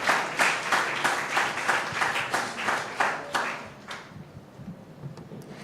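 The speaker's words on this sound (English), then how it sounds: "So with a round of applause, let's welcome" Rhythmic clapping from a conference audience at the Success Africa Summit welcomes a presenting team from ABSA, swelling in even bursts and then fading out after a few seconds with no talk.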